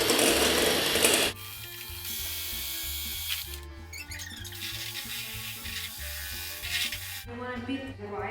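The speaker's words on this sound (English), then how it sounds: "hand mixer attached with whisk attachments and I'm going to beat my egg whites" An electric hand mixer fitted with whisk attachments beating egg whites in a bowl, a close steady mechanical whir with a rattling buzz that runs throughout, jumping to a harsher pitch near the start; a voice talks over it.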